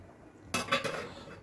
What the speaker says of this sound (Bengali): এইবারে আমি মাছের টিফিন কৌটোটা এর ভেতর বসিয়ে দিচ্ছি